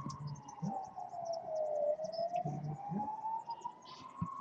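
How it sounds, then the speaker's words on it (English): A police siren wails steadily in the distance, its tone slowly sliding down and back up over faint outdoor background noise. "maybe you can hear the police sirens going off as well."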